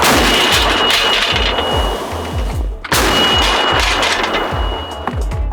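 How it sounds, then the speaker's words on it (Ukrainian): Repeated heavy booms of Ukrainian border guard artillery cannon fire, a rapid series of sharp blasts with ringing echoes, loud and close, then another volley after a brief pause. "Гармата!"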